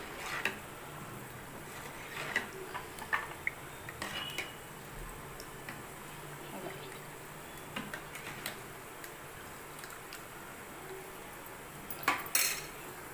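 Salt, chili powder and turmeric are mixed into a cooking pot with a spoon, giving soft scrapes and light metallic clinks scattered over a quiet hiss, with a few sharper knocks toward the end.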